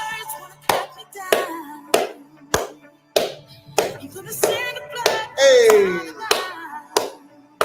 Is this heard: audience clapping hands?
yes